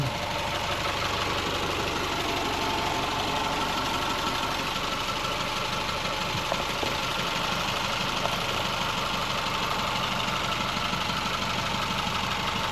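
2010 Subaru Forester boxer engine idling steadily after a timing belt repair, an even continuous mechanical hum with a fine rapid ticking rhythm, heard close up and alone without any talk.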